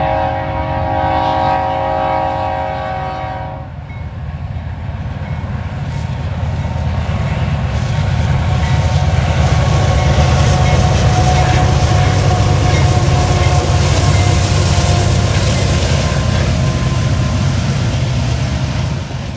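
Freight train 179 with a UPG rebuild leading and the NS 1070 Wabash Heritage unit second passes the Davis Road crossing, a loud horn blast giving way to a close, heavy, sustained roar of rolling cars.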